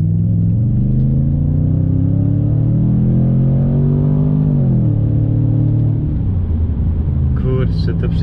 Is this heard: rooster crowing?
no